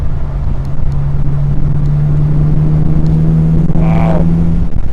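A Morgan 4/4 drives through green countryside, its engine holding a steady, loud drone with a slight rise in pitch near the end.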